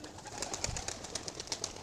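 Pigeons cooing at a home loft, a soft low murmur of calls over a steady bright outdoor hiss, fairly close and continuous, with no voices.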